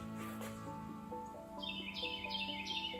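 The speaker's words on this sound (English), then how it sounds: "I'm gonna kill this bird." A bird chirps inside a garage, repeated bright, high tweets in quick bursts, fairly close and clear over a steady low hum of background noise.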